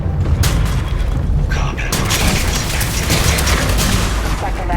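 Gunfire and booming blasts in the Starfield video game, a dense burst of loud shots and explosions close up, with game sound and a voice faintly underneath.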